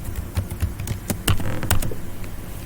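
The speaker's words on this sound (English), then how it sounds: "Type in password," Password keys tapped on a computer keyboard while installing Google Chrome on an Ubuntu Linux machine, a quick irregular patter of light clicks with a few louder strokes, close and without talk.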